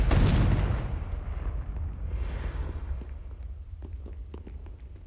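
A Confringo spell explodes in the Hogwarts Legacy video game: one loud, deep blast hits at once and then rumbles away over several seconds, with faint light steps and ticks as it fades.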